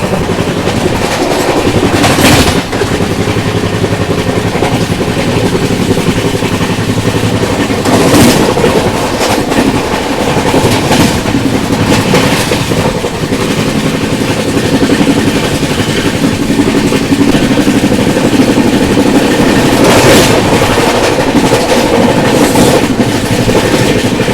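Loud, steady rumble and rhythmic clickety-clack of the Jhelum Express passenger train running on rails in intense summer heat, continuous and close throughout with periodic louder rushes of wheels over joints.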